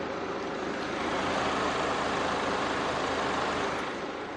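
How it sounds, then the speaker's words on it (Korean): Jaguar E-Pace SUV, a compact urban full-time all-wheel-drive model, idling with the hood shut: a steady, smooth, hushed engine hum held evenly throughout with no voices. "굉장히 정숙한 엔진 소음 만나보실 수가 있습니다"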